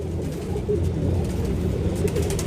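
Pigeons cooing softly at close range, a steady low murmur of overlapping coos under faint room noise, with no voices.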